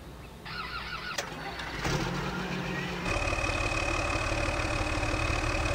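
An old Russian tractor engine cranks and catches, then settles into a steady, loud idle with a continuous low rumble and a sustained tonal hum, close by and without talk.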